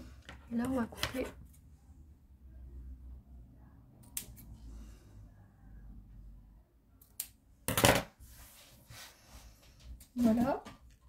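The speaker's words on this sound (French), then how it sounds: "Et là, on va couper." Scissors snipping a thin ribbon at close range, a few short sharp cuts spaced apart, heard under quiet talk with a television murmuring in the background.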